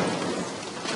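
A grenade blows up in Call of Duty: Modern Warfare 3 Spec Ops co-op on PC, a loud, dense roar of blast rumble and debris noise that fills the whole moment without a break.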